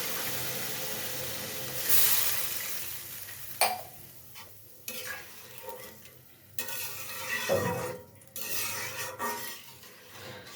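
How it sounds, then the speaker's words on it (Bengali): Water is poured into a pan of fried rice grains and hits the hot pan with a brief sizzling rush. Intermittent scraping, stirring and metal clinks follow in a quiet kitchen. "এখন আমি পরিমাণ মতো জল দিয়ে দিচ্ছি।"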